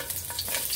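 A brief burst of sautéing in hot oil, with a close, bright sizzle and a few light stirring scrapes, heard alone with no talking.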